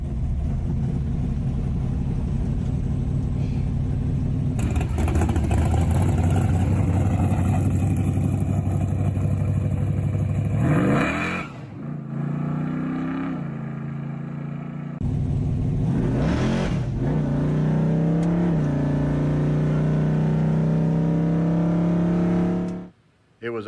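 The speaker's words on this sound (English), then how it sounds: "The very first test drive with the engine in the car." A Mopar big-block engine in a Barracuda drag car on its first test drive, idling then revving hard in loud rising sweeps, dipping and surging again before cutting off abruptly at the end.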